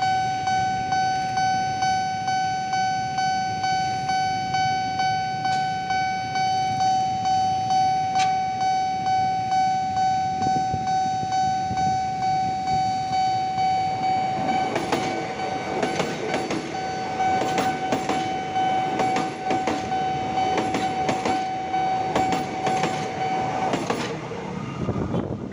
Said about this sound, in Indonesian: Kereta bandara dari stasiun Manggarai menuju Bandara Soekarno-Hatta.